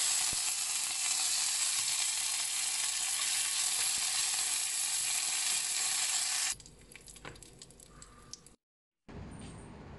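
Curry leaves and dried red chillies sizzle loudly in hot oil, a steady bright crackle for several seconds that then drops to a softer, sparser spatter, goes briefly silent, and returns quietly.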